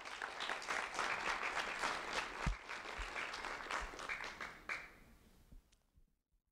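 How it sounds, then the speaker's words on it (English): An audience claps for a fourth-grade student who led the Pledge of Allegiance, a few seconds of steady applause fading out quickly at the end. "A round of applause for Lam"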